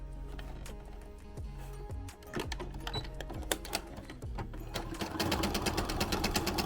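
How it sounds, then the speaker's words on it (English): A home sewing machine stitches along a marked seam line on an Among Us plush, a steady rapid motor whir with clicking needle strokes, speeding up and growing louder partway through, close and alone without talk. "we want to sew right along this line"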